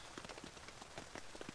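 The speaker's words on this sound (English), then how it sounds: "Still wasn't in the mood for rain," Rain falls on a hot tent at a campsite, irregular soft drops tapping the fabric at close range over a constant diffuse hiss.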